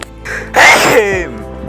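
A single close, sharp sneeze from a villager bothered by shed caterpillar hairs, with breath and a short voiced tail after it.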